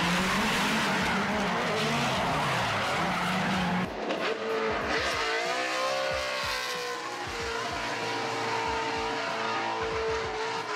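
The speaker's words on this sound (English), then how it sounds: "That's not drifting. This is drifting." A drifting car roars at high revs while its tires squeal long and loud, the engine note shifting and wavering as the car slides, continuous and close throughout.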